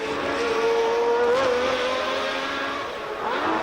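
Formula One cars at Monza in 1981, a Ferrari and a Williams, roar past at racing speed. Their engines give a loud, continuous high-pitched howl that rises and falls as they change gear. No commentary is heard.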